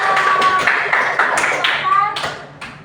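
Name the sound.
applause for the presenting group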